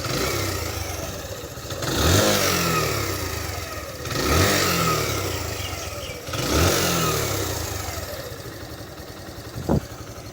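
A Suzuki GSX125 motorcycle engine idles with a steady putter and is revved three times at regular intervals, each rise climbing and falling back. A sharp click follows near the end.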